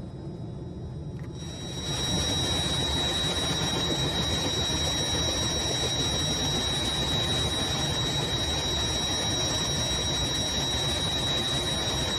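An SA315 Lama helicopter engine in a flight simulator game: a loud, steady turbine roar with a high whine swells up about a second and a half in, then holds constant with no voices.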